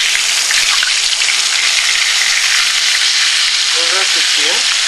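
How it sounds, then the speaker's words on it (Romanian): Fish sizzles and spits loudly in hot oil in a frying pan, a dense steady hiss running throughout without pause. "peștele s-a prăjit bine pe"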